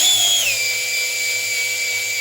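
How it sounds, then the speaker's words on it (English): A power drill priming oil through a 426 Hemi engine, a loud close whine that drops in pitch as it slows, then holds a steady strained drone. "And I'm reminded that this drill sucks."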